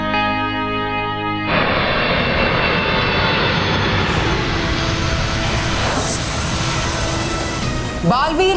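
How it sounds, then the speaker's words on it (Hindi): An airplane engine roars loudly and continuously, building into a heavy, close drone with an echoing, processed quality in a dramatic television scene. "वो विमान कहाँ गया?"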